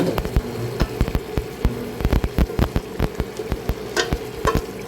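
Vegetables cooking in a pan sizzle steadily as a utensil scrapes and taps against the pan in a quick, uneven rhythm, close and with no talking.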